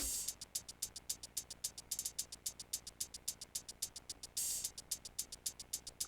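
A crisp, rapid trap hi-hat pattern ticks in a steady rolling rhythm, with a brief open-hat wash near the end, played alone.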